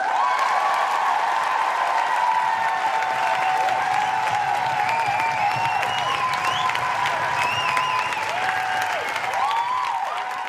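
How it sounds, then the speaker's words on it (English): Audience applause for a dog-and-owner award on a pet podcast, a steady, dense wash of clapping that holds evenly at full level for about ten seconds with no voices over it. "A very well-deserved round of applause."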